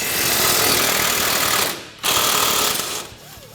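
A power tool loosens the lower shock bolt on a Polaris RZR XP 1000 during a lift kit install. It gives a loud, close, rapid hammering whir that cuts out briefly and then resumes.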